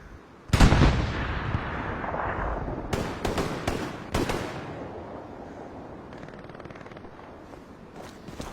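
Gunfire from the World War II shooter game Hell Let Loose, loud sharp shots and booming blasts with a strong opening burst, then several spaced cracks fading into a rumbling battlefield background, no talk.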